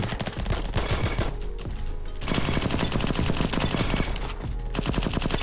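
Rapid automatic fire from a G36C rifle in Roblox Bad Business, loud close bursts of rattling shots with brief pauses between volleys and no speech.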